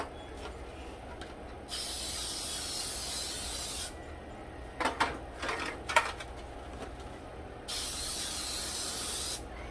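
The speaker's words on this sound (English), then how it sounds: "So I'm going to spray my pans." Two long hissing bursts of aerosol cooking spray on muffin pans, separated by clattering and scraping of pans, then a third spray burst near the end.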